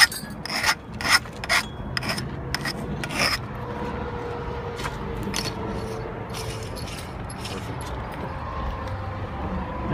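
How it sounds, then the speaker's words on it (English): A hand file rasps back and forth over the cut end of a 2-inch Brugg Secon-X pipe, taking off sharp edges in loud, close strokes that start out separate and uneven, then blend into a steady scraping with no voices. "File off any sharp edges."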